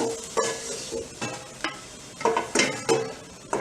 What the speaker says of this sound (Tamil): இப்போ இதிலே மிளகாயை வறுத்துருவோம்.